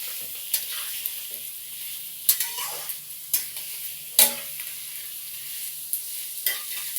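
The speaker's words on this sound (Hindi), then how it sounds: "इसमें हल्का सा नमक दे देते हैं प्याज को गलने के लिए। और इसे चला देते हैं अच्छे से।" Chopped onions with a pinch of salt sizzle steadily in a kadhai while a spoon stirs them, scraping the pan in several sharp clacks spaced a second or so apart. The sound is close and continuous, and no one speaks.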